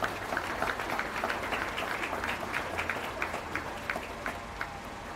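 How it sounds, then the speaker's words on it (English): A modest crowd applauds young exhibitors at a county fair beef show, steady clapping with scattered distinct claps, moderately distant and fairly soft. "Let's give these young people a round of applause, please"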